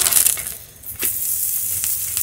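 A roti sandwich fries in a pan with a steady, hissing sizzle that briefly dips and then returns, close and moderately loud, without any talking.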